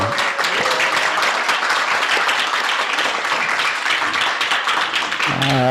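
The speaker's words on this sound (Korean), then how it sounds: "먼저 큰 박수로 환영해 주시기 바랍니다." Sustained applause from a large audience at a Korean-language basic income conference panel, dense and steady for several seconds as young activists are welcomed, easing into speech at the very end.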